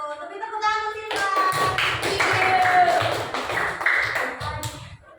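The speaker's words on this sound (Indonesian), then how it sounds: "Tapi tepuk tangan untuk Silva." Classroom applause for a student named Silva: a few seconds of children clapping together in quick, uneven patter, close and fairly loud, with high children's voices calling out over it.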